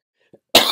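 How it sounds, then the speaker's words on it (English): A single sharp, loud cough from one person bursts out close by after near silence, with only a faint breath just before it. "I have a cough, not because of COVID,"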